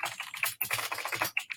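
Quick, uneven keystrokes clatter on a computer keyboard, close and fairly quiet, in short bursts with a brief pause partway through.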